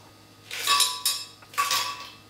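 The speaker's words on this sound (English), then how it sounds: "Now, let's put in some ice." Ice cubes are dropped into a Hamilton Beach Wave Crusher blender jar in two clattering bursts, bright clinks of ice against the jar with a short pause between them.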